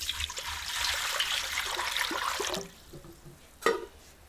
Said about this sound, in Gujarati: આ તપેલામાં પાછું પાણી નાખીને મૂકી દઈએ